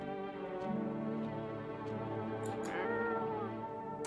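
A cat in the video game No I'm Not a Human meows in drawn-out, wavering calls, close and fairly loud, with a second rising meow near the end.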